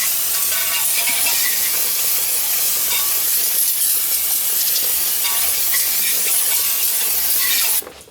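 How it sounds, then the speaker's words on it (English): A continuous aerosol spray of brake cleaner hisses loudly and steadily for several seconds onto a 2008 Toyota Tundra's rear brake, then cuts off abruptly. "I'm spraying a little bit of brake fluid"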